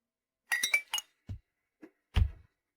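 Glasses clink together in a toast at a shared meal, several bright chimes in quick succession followed by a few louder, separate clinks, close and clear.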